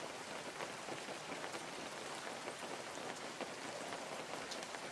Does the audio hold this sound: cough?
no